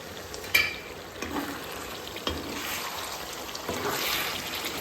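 Meat curry being stirred in a pan in a village home kitchen, soft frying and sizzling with a few scraping knocks of the spoon, fairly faint and without talk.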